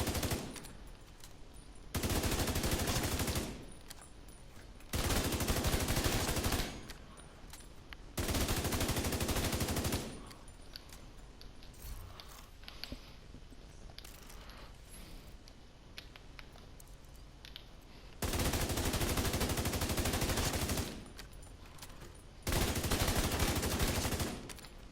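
Automatic weapon fire at the shooting range in The Division 2 comes in five long, sustained bursts, each lasting a few seconds, with quiet gaps between them. The shots sound loud and close.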